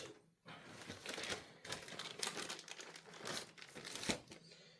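A plastic baggie holding small action figure accessories crinkles and rustles close up in quick, uneven bursts, handled by fingers for several seconds with no talking.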